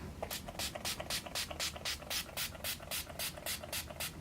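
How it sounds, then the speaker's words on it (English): A makeup finishing spray hisses in many quick, evenly spaced fine-mist bursts, close and fairly soft, about three spritzes per second. "use my Skindinavia the Makeup Finishing Spray to spritz that all into place"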